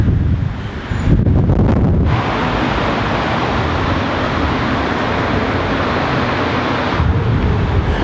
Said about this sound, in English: It's windy in Leicester.